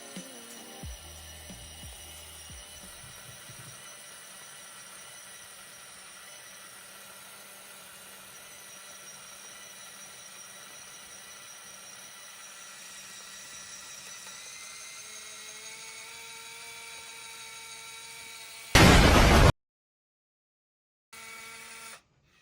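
A film camera's motor automatically rewinds a finished roll, a steady close mechanical whine that rises in pitch for about eighteen seconds and then stops abruptly.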